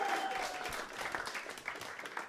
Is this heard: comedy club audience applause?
yes